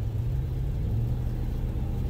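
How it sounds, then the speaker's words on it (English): A Ram Black Widow pickup truck with a Hemi engine gives a steady low exhaust rumble while cruising into town, a deep continuous drone with no voices over it. "just has a real nice crisp exhaust note as we're coming into town"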